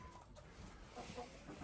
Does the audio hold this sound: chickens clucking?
yes